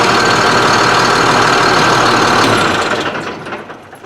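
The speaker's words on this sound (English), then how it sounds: "a couple times I've started it, it starts, but it's not running like it has full power" International DT466 engine in a beverage truck running rough after a hard start following an overnight sit, a loud steady diesel clatter and drone that fades and falters toward the end.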